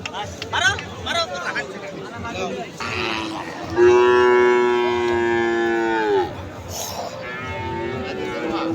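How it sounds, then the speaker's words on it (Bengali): A five-month-old Sahiwal calf at a cattle market gives one long, loud, sustained moo partway through, among nearby voices and crowd chatter. "অনেক সুন্দর শাহিওয়াল বাচ্চা।"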